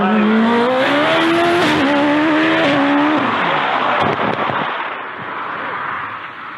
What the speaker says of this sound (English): Percussive noises from the exhaust. It sounded like there was an engine problem there for Dave Uren.